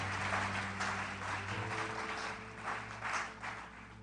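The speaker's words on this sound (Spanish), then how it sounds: "Give a round of applause to the Lord." Church congregation applauds in a soft, steady wash of clapping that swells slightly in places, with a low hum underneath.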